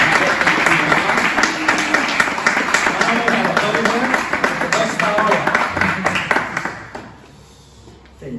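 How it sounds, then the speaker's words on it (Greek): An audience at a talk claps loudly and steadily for several seconds, with voices mixed in, before the applause fades out abruptly into quiet. "Θέλουμε ένα πολλά πολλά δυνατό χειροκρότημα."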